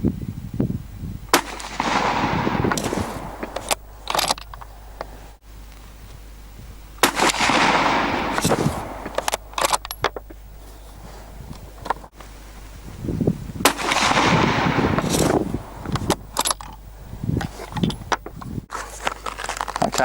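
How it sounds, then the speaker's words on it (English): Three loud rifle shots from a Thompson Center Dimension firing Federal 55 grain soft point ammunition, spaced several seconds apart, each with a sharp crack and a lingering outdoor echo. "now we'll shoot 3 shots of the Federal 55 grain soft points"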